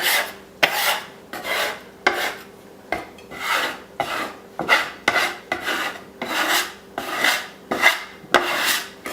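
A dough scraper rasps repeatedly across homemade Italian pasta dough, with about a dozen close, rhythmic scrapes, each a short gritty swipe with a sharp start.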